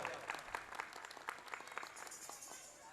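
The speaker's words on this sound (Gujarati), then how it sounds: "જરા તાળીથી રામદેવભાઈને વધાવો." An audience at a temple gathering in Lavadiya applauds to welcome Ramdevbhai, with dense, steady clapping from many hands that holds for several seconds and fades slightly toward the end.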